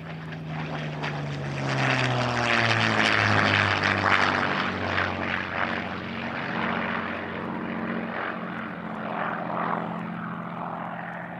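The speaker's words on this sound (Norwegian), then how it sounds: "ja, det var lyden av flytypen Spitfire." A Supermarine Spitfire propeller aircraft of the 1940 World War II era flies past with a loud, steady engine drone whose pitch sinks as it passes, then holds a rough, sustained roar, with no voices.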